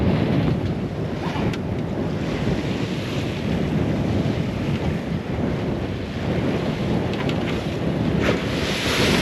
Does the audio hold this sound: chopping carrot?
no